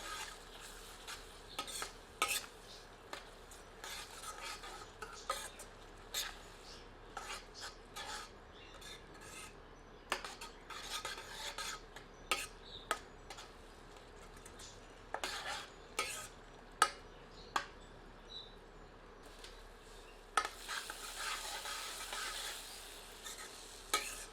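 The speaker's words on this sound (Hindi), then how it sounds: "अब टमाटर सम्मिलित करते हैं। सबको मिलाकर 3 से 4 मिनट भूनते हैं।" Tomatoes are sautéed in a pan with faint sizzling under repeated sharp scrapes and clinks of a spoon stirring against the metal, close and fairly quiet, with no talking.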